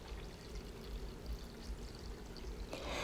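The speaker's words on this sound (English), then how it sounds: "I have a measuring cup, and I'm going to add the 3 cups of milk." Milk pouring into a measuring cup in a kitchen, a soft continuous stream lasting a few seconds that brightens near the end as the cup fills.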